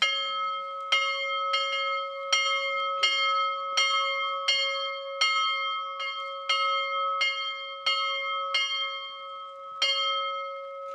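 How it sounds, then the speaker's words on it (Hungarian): A church bell tolls in slow, evenly spaced strikes, about nine in all, each ringing clearly and fading before the next, with no voices. "Tehát a harangnak az a célja végül is, hogy erre figyelmeztessen bennünket,"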